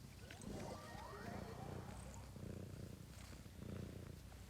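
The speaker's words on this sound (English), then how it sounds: "I hope you can hear the purring that's happening." A cat purring up close, a low continuous rumbling pulse under soft background noise, with a person talking faintly in the clip.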